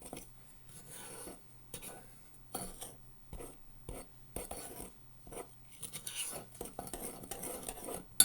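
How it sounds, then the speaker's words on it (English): A little spoon stirring batter in a bowl, faint close clinks and scraping in short irregular bursts with quiet gaps. "So, now we stir this together."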